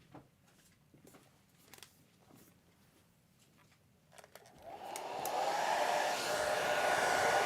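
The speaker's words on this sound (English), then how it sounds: "So let me turn the blow dryer on." A blow dryer switches on after a few quiet taps and knocks, then runs as a loud, steady whoosh while drying a watercolor painting.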